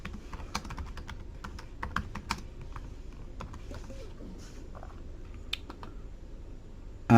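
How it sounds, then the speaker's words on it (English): Keys clatter on a computer keyboard as an address is typed into removals company software, a quick run of soft taps that is busier at first and then sparser, close and fairly quiet with no voices. "We can type that in if we want."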